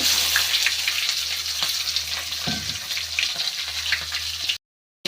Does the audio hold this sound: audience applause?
no